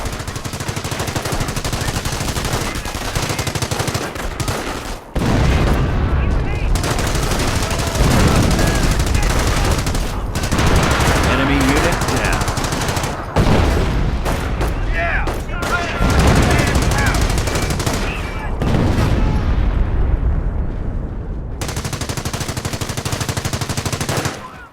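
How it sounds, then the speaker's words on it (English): Sustained bursts of machine-gun fire and rifle shots from a German attack in the Company of Heroes strategy game, loud and dense throughout with brief lulls, mixed with a voice giving commands. "Use the artillery strike ability to defeat the German attack"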